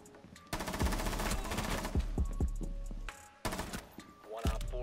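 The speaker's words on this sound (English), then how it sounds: "He's shooting at me." Enemy gunfire in Rainbow Six Siege, rapid bursts of close automatic shots with a few sharp single cracks, loud against a quieter game background.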